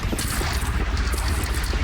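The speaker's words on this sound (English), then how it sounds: "Just want to give your cannon a real quick test of some live targets" A cannon firing during a test on live targets in Horizon Zero Dawn, heard as a steady, loud barrage of booming blasts with a rumbling low end that never lets up.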